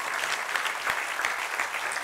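Applause from an audience at a Corsican prevention-association event, a steady dense clatter of clapping filling the whole stretch at moderate distance, with no voices over it.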